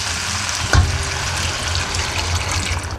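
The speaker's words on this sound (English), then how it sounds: "Then I'm gonna add water." Steady rushing water pours into a pot of rice for arroz caldo, a continuous splashing gush with a brief thump near the start and no voices.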